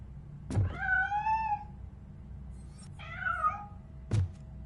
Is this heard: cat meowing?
yes